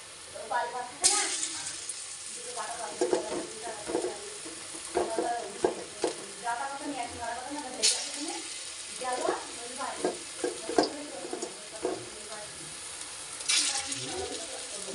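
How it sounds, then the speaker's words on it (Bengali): Potato pakoras deep-fry in hot oil with a soft continuous bubbling sizzle, punctuated by sharp splashes and utensil clinks as pieces are turned, while a person talks over it. "চলো এরকম করে বাকিগুলো ভেজে নিতে, লাল লাল করে ভেজে নিতে হবে।"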